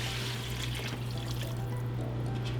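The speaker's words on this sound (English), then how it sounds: "So we're gonna add a little bit of vegetable broth." Vegetable broth is poured into a soup pot for a gluten-free vegetarian soup, giving a steady liquid trickle and splash over a constant low kitchen hum, with no talk.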